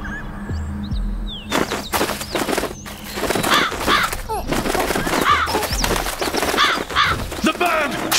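Bird cawing in the Rise of the Kasai video game, harsh repeated calls rising over busy game noise and battle sounds with a steady loud background.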